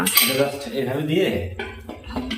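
A metal cooking pot is handled in a home kitchen beside a new induction stove, giving repeated clanks and scrapes close by, loud and irregular, with no speech.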